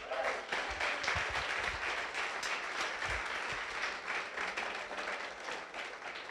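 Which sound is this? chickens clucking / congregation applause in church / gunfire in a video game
congregation applause in church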